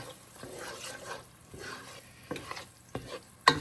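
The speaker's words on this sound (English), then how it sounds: "I'm gonna add in some pimientos, which is the red peppers, as well as some olives. And mix that in" Red pimiento peppers and olives stirred into a frying pan, a soft sizzle under scraping and shuffling spoon strokes with a few sharper clicks against the pan near the end, no voices.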